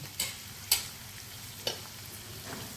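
Onions and tomato with ginger-garlic paste sautéing in a pan for a cauliflower-potato curry, a steady soft sizzle broken by three or four sharp scraping clicks of a spoon against the pan, close and moderately quiet, with no talking.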